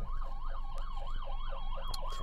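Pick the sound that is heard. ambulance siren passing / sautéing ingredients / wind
ambulance siren passing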